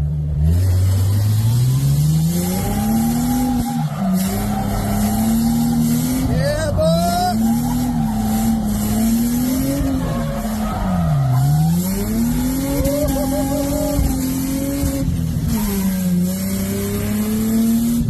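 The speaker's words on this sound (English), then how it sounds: "he got a clip from the passenger seat of me doing a little figure eight near his house" A New Edge Mustang drift car loops through a figure eight, its engine revving up and down in long sweeping waves with tire squeal over a steady roar, recorded from inside the passenger seat.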